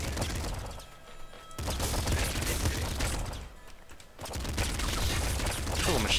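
Rapid automatic gunfire from a machine gun in the video game Nuclear Throne, dense bursts of shots with brief pauses, loud and continuous alongside other game effects.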